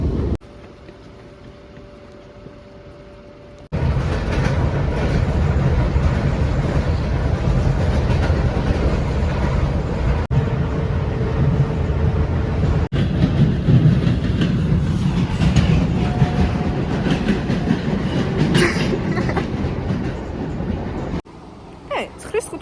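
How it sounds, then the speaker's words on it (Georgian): An old train rumbles loudly along the rails with a steady rolling roar and faint rhythmic clacks, after a brief quieter opening; voices occasionally talk over it. "აი ეს მატარებელი იყო"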